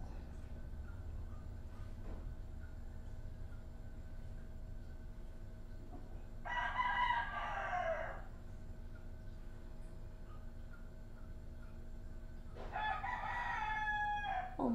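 A rooster crows twice from behind a house, each call loud and ringing for about a second and a half, separated by several seconds of low background hum.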